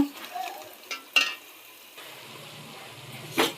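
Green chillies slit lengthwise fry in a pan for an Andhra-style mutton head and trotters curry, with a faint, low sizzle and a few sharp clinks from a utensil.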